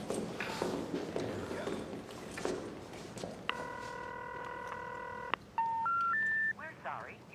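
A telephone's dialing sequence: a sustained multi-tone signal followed by the rising three-note intercept tones of a disconnected number, with footsteps and commotion beforehand.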